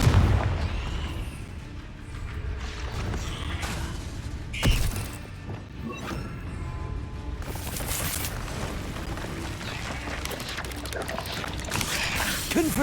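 Fiery Confringo spell blasts and crackling magic in the video game Hogwarts Legacy, with a sharp close explosion near the middle and a burst of crackling impacts after it, over steady rumbling combat noise.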